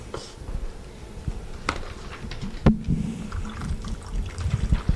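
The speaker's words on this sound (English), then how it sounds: "hot water out of the kitchen sink, didn't you?" Hot water runs from a kitchen sink faucet in an uneven, splashing pour that swells louder toward the end, with a sharp clunk partway through.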